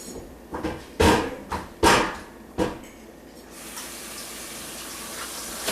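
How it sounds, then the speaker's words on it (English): Tap water runs into a kitchen sink for chilling homebrew wort, starting after a few knocks and thumps and settling into a steady, moderately loud gush with no talk. "I'm going to move this to the sink, fill it with water"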